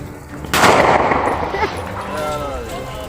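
Aerial gunfire in Faisalabad, a loud sharp report with a rolling echo that trails off, followed by a quieter background din with voices talking.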